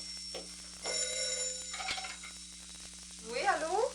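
A telephone rings faintly indoors in bright, electronic tones, with a steady low hum beneath it. Brief clicks and shuffling follow as the ringing continues.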